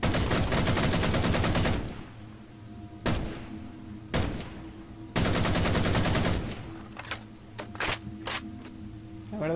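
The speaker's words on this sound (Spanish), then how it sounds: "Ahora vamos con el rifle de asalto" Two loud bursts of rapid automatic assault rifle fire from a Halo-style video game map, each lasting nearly two seconds, separated by sharp single clanks and followed by a few quick mechanical clicks and thuds, with no voices.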